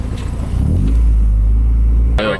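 A car with an H22A engine revs with a deep, loud rumbling drone close by, then a sharp rise at the end as gears are shifted.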